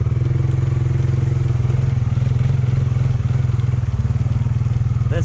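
A Honda 300 4x4 ATV engine runs steadily in first gear, a loud, close, even drone with a throbbing low rumble that never lets up.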